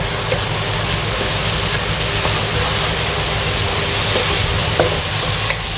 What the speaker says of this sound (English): Fry this until the tomatoes are mushy and the oil leaves the sides of the pan.